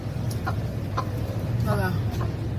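A rooster makes a few short clucking calls close by, heard over steady low background hum.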